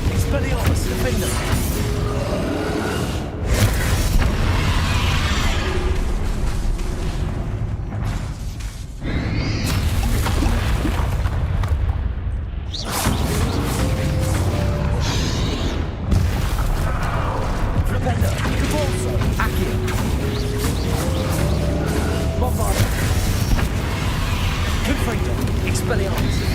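Spell blasts in Hogwarts Legacy, Bombarda and Confringo, crack and boom repeatedly over a loud, busy battle mix. A voice calls out the spells throughout.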